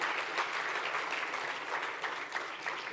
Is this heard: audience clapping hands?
yes